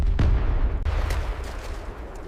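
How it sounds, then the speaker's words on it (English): Distant artillery fire on a World War I battlefield: a deep boom opens with a heavy rumble, followed by a few fainter thuds and a lingering low roll. "Did you hear that? That made it especially frightening. Artillery, probably."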